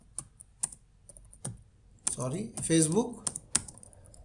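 Keys clatter on a computer keyboard as someone types a search on a freelance services site, the taps coming in scattered bursts with a short stretch of speech in the middle.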